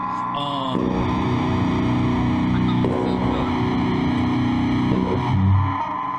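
Heavily distorted electric guitar using BandLab distortion effects, with layered sustained notes and effects, loud and continuous, with a low rumbling swell near the end.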